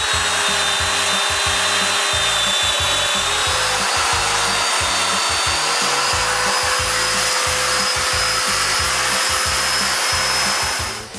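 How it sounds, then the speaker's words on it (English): A power tool runs steadily and loudly close by, cutting domino mortises into wooden dresser stiles: a continuous whirring, buzzing motor with a grinding wood-cutting texture throughout, no speech. "After marking them, I make the mortises."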